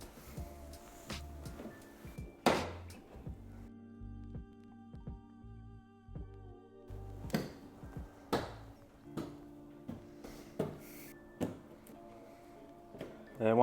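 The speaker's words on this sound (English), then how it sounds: "Pop clips, so we're going to pop those out," Plastic trim clips pop out of the boot liner of a BMW G87 M2 or G42 M240i, a few sharp clicks and snaps scattered among quieter handling noises, close and fairly faint.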